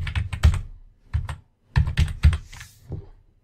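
Someone types a network ID on a computer keyboard while setting up a Minecraft server, with quick bursts of clacking keystrokes separated by short pauses, close and fairly loud.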